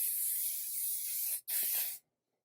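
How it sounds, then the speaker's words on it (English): Hairspray hisses from a can onto hair in one long, close, loud spray of about a second and a half, then a brief break and a shorter second burst before it stops. "So hairspray to hold and give some longevity."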